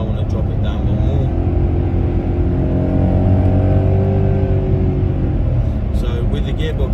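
A Mercedes ML63 with its 6.2-litre engine is dropped through the gears, and the revs swell into a loud, steady rumble and roar for several seconds before settling.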